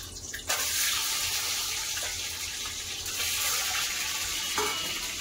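Boiled eggs fry with a pinch of salt in hot mustard oil, making a steady, close sizzling hiss that starts suddenly and carries on without a break.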